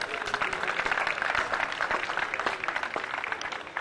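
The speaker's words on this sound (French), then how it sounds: "à M. Grévy Matita, sous vos applaudissements bien sûr." Applause fills an awards ceremony as a prize for patron of the year is presented at its sixth edition: dense, steady clapping from many hands, sustained and fairly loud throughout.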